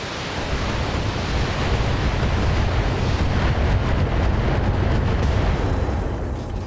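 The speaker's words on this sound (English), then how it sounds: "heavy tank. Firing." A heavy tank's main cannon fires in a clan-battle video game, a sustained broad roar of blast and rumble filling the whole stretch at steady high loudness with no talk.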